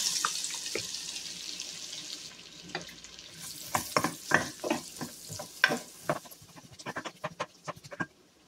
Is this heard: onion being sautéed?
yes